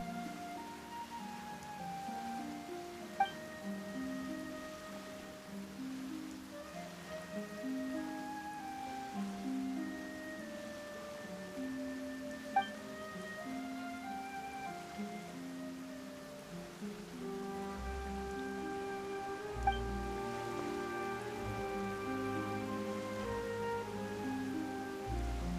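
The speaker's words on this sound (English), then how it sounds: "Why is it raining all of a sudden?" Rain falling in the Genshin Impact video game, a soft steady patter under a gentle melodic music score, continuous and faint throughout.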